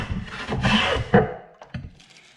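A hand plane shaves across a wooden board in a woodworking shop in a few quick, close rasping strokes, the longest near the start, and the sound fades into quiet.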